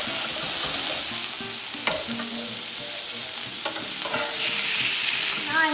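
Chicken breast sizzles loudly and steadily on a grill pan, with occasional utensil clicks and shifting crackles throughout.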